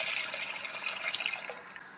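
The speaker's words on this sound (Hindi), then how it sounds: "अब इसमें 3 कप पानी के डाल देंगे" Water poured steadily into a pot of meat with blended tomato paste while cooking aloo gosht, a continuous close splashing gush lasting a couple of seconds, with no talk over it.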